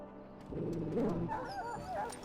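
A dog in the video game Dragon Age: Origins gives low whimpering and yipping cries that rise and waver in pitch, moderately loud over a steady background.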